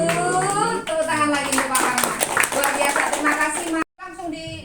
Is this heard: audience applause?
yes